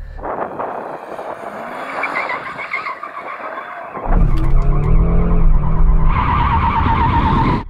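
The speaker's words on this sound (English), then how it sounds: "Now let's get on with warming up our tyres." A performance car, one of a new BMW M2, Audi RS3, Mercedes-AMG A45 S or Porsche Boxster GTS, spins its wheels to warm its tyres at a drag race, with engine roar and tyre scrub swelling louder midway.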